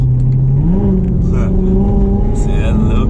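A Corvette with a 6.2 engine accelerates hard down a street, its loud, close engine note climbing steadily in pitch as the revs build.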